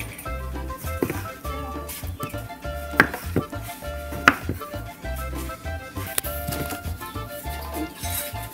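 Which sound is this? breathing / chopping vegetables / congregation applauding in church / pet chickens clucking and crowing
chopping vegetables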